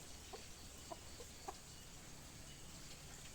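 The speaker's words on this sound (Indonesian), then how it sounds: "Tapi ada ayam" Chickens clucking at an almost abandoned rural village settlement, a few short scattered clucks sounding faint and distant over a steady background hiss.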